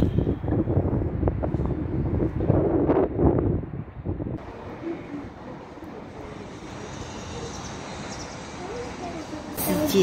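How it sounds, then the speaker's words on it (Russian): Strong wind buffets the microphone in a loud, rough roar at the Cathedral of Christ the Saviour in Moscow, with voices mixed in early on before the gusts settle into a lower, steady rush. "Очень сильный ветер."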